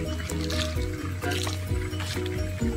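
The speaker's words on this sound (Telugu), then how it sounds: "లైట్ గా పోసుకోవాలి, బాగా కూడా పోసుకోకూడదు" Palm toddy (eetha kallu) is poured lightly into a glass, giving a soft, steady trickling and filling sound up close for a few seconds.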